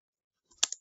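A brief cluster of a few light clicks from a computer keyboard being typed on, close and quiet after a moment of silence.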